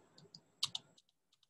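Close, light clicks of typing on a computer keyboard, a handful of separate key taps with brief pauses between them, quiet and without any talk.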